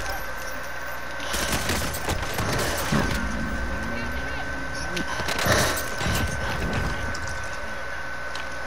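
Call of Duty: Modern Warfare gunfire, rapid bursts and scattered shots cracking over steady background game noise, fairly close and loud, with a voice talking over the fight.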